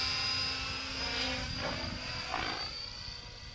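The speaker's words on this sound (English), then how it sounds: "Unlike an airplane, a helicopter doesn't roll quite on the same symmetrical axis unless you're really going fast." Helicopter performing an aerobatic roll, a steady loud rotor and turbine whine with a high tonal hum and rhythmic blade chop swelling mid-way, then easing slightly, with no voices.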